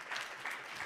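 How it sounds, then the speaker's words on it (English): Steady, soft applause from an audience at an analytics competition event, a brief continuous patter of many hands with no voices. "Let's give him a hand of applause."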